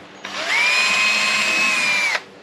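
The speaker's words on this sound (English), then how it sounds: "Pre-drill first." A power drill pre-drills a pilot hole in wood for a simple folding-leg picnic table, one steady whining burst of about two seconds that rises in pitch as it spins up, loud and close.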